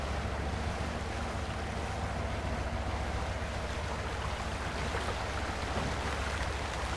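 A strong river current sweeping a truck along in Spintires MudRunner, heard as a dense, continuous roar of rushing water and wind-like noise, loud and close with no break.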